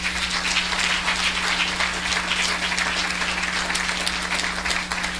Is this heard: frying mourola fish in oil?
no